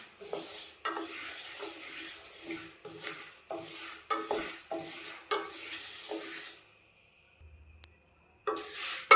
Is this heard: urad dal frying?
yes